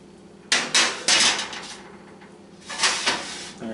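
A tray of fries goes into a preheated 400-degree oven with a few metallic clunks and rattles of pan and rack, a pause, then another clatter, close by and with no talk.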